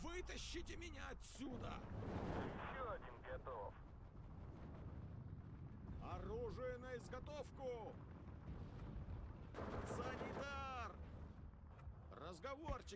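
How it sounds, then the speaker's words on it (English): Deep, rumbling mortar blasts in the WWII strategy game Steel Division 2 (Soviet campaign at Iasi), heaviest at the start and recurring beneath someone talking. "Keep this mortar fire going down."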